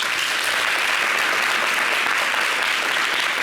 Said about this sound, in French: se limiter à ces applaudissements plutôt limités et maigres